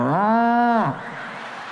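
A voice imitates a cow, giving one long, loud, drawn-out moo with a steady pitch that drops off at the end. A quieter stretch of room noise follows.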